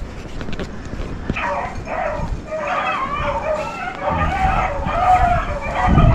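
A hunting dog yips and barks repeatedly during a rabbit hunt in grassy cover after a storm, the calls fairly close and mixed with outdoor rustle and a voice.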